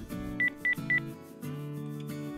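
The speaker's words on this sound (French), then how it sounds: "Il faut que je rappelle ma copine avec mon téléphone féerique." A toy fairy telephone gives three short, high electronic dialing beeps in quick succession over a looping synthesized jingle, close and bright, with no voices.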